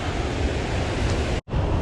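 Strong water current rushing through a spillway, a steady loud broadband roar like heavy surf that runs continuously, broken by a brief dropout near the end before resuming.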